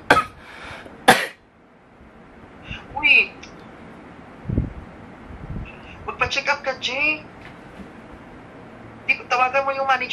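A person coughs in a few sharp, close bursts, spaced apart in a quiet indoor space, with a voice talking between them.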